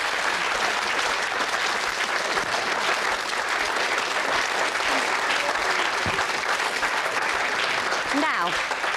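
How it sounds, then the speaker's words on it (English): Studio audience at a 1995 late-night live debate show applauds the guests, with thick continuous clapping filling the room evenly for the whole stretch, a voice faintly present beneath it. "let's give our guests here a round of applause"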